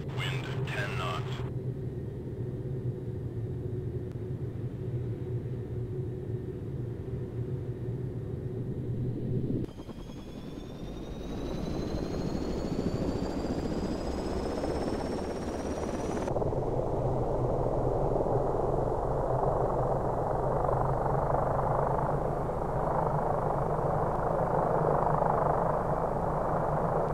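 A helicopter spools up for takeoff in the combat flight game Enemy Engaged, set over Kuwait. A rising turbine whine swells into a loud, steady rotor and engine roar that holds to the end.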